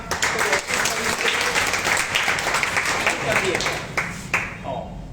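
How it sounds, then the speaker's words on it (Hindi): Students seated in a classroom applaud in a sustained burst of clapping, with a voice talking over it at times. "तालियों की गड़गड़ाहट से आप आवाज सुन सकते हैं उन लोगों का"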